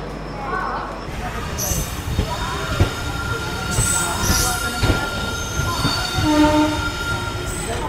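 A passenger train rolls along the rails with a continuous clattering rumble and high wheel squeals. A faint horn-like tone sounds, and voices are heard in the background.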